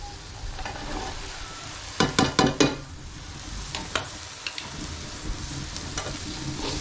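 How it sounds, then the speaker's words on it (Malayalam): Chopped potatoes, carrots and beans are stirred into masala frying in a pot, with a continuous sizzle and a burst of sharp scraping and clattering stirs near the middle, then a few lighter knocks. "ഇനി നമുക്കിതിൽ അരിഞ്ഞ് വെച്ചിരിക്കുന്ന ഉരുളൻകിഴങ്ങും ക്യാരറ്റും പിന്നെ കുറച്ച് പയറും കൂടി ചേർത്ത് കൊടുക്കാം"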